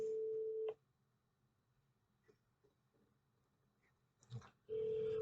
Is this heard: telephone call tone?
yes